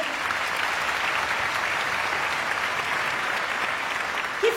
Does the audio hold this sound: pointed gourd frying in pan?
no